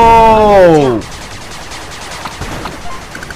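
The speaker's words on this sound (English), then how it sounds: "First time I ever got hit with a nuke there, guys." A nuke strikes in the 8-Bit Armies PC strategy game: a loud descending tonal whine sweeps down for about a second, then cuts into a broad rumbling blast wash with scattered crackles fading beneath.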